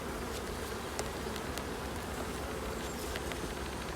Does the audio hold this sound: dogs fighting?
no